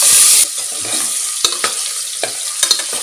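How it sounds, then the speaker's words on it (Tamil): Medium-size potato pieces drop into hot oil left over in the pan for egg biryani, a loud initial sizzle that settles into a softer steady fry, broken by a few close stirring clinks, with no talking. "இப்போ அதே ஆயிலில் ஒரு மீடியம் சைஸ் உருளைக்கிழங்க கட் பண்ணி வச்சுருக்கேன்."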